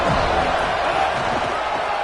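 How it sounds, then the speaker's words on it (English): Stadium crowd at a college football game against Florida State, a dense roar filling the whole space. "This crowd ready to make its presence known."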